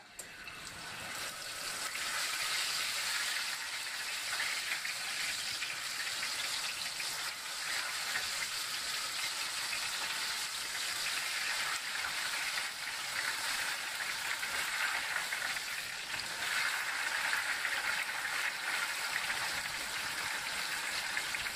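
Pork ribs sear in a hot pan with a continuous, even hiss that holds at the same level for about twenty seconds, close and alone.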